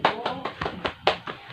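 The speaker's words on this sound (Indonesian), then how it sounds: "Tepuk tangan untuk Suci" A short burst of classroom applause, with a few people clapping unevenly at close range, sharp separate claps roughly every fifth of a second.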